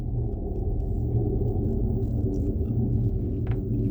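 A car outside gives off a steady, low rumble that holds at an even level for several seconds. It sounds muffled and fairly close, with no voices over it.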